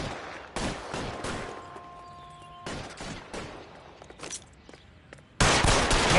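Bursts of suppressing gunfire rattle through a L.A. Noire shootout, several loud broadband volleys separated by brief lulls, with a heavy sustained burst at the end.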